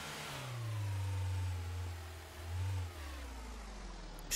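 Car engine in Trader Life Simulator while driving: a steady mid-pitched hum that swells and dips as the throttle changes, close and continuous with no talk.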